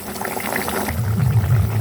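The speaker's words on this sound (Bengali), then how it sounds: "এবার ঝোলটা ফুটছে" Rohu fish kalia gravy bubbling in a pan, a steady low burbling simmer that thickens and grows louder, with no voices.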